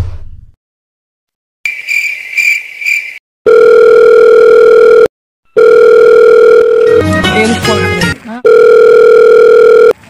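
A telephone rings in loud, sustained electronic tone bursts separated by short silences, with a crackly, chirping burst in the middle and a brief buzz before the first ring.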